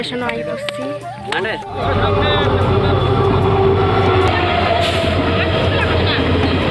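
A train rumbles and rattles loudly and steadily nearby, with people chattering in the background and a voice speaking early on.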